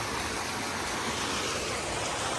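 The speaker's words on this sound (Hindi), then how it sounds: "अनुज भाई तो सीधे झरने के नीचे बैठ गया है" Steady, loud rush of a waterfall with people sitting right under the falling water on a hot day, constant dense roar throughout with no talk.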